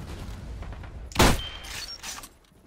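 A shotgun blast in the online shooter Metro Conflict, one loud sharp report rising out of steady game noise, with fainter clatter trailing after it.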